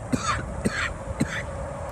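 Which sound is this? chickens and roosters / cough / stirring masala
cough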